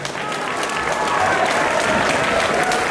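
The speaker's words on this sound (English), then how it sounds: "please give both fighters a massive round of applause," A crowd at a caged stand-and-strike fight event applauds both fighters, a dense, steady burst of clapping that builds slightly in volume.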